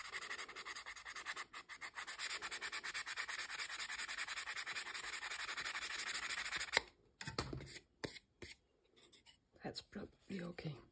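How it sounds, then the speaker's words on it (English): Sandpaper rubs back and forth over a small stained wooden craft piece, a steady close scratchy rasp for about seven seconds before breaking into a few short scrapes and pauses. "Oh no, I got some stain on this one. Okay, I'll just see if I can sand this off."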